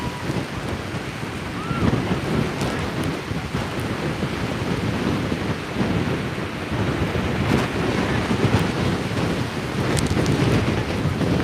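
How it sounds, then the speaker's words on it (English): Storm surf from Tropical Storm Nicole crashing over a seawall at St. Augustine, Florida, a loud continuous roar of breaking waves with heavy wind buffeting the microphone and surges swelling every few seconds. "show you the water crashing over the seawall here"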